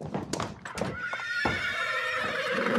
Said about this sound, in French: Il hennit pas, mais on l'entend quand même hennir